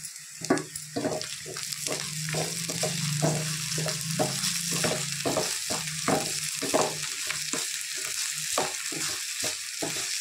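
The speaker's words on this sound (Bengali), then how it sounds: "পেঁয়াজটা আমার একটু লাল লাল করে ভাজা হয়ে গিয়েছে। এখন আমি আদাটাও দিয়ে দিচ্ছি।" Onion browned in a pan with ginger just added sizzles and crackles steadily, broken by a regular run of scraping stir strokes from a spatula, close and fairly loud with no talking, while a Kabuli roll filling is cooked.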